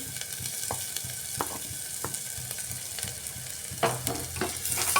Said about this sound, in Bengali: এই আদা রসুন দিয়েও একটা সময় আমি নাড়িয়ে নিচ্ছি